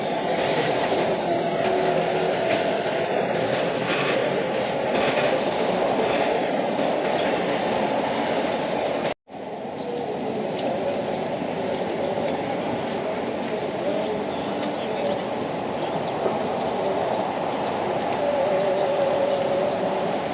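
Tram rolling uphill through Lisbon's Bairro Alto, a steady rumble and rattle of the car with a brief cutout midway, continuous and close throughout.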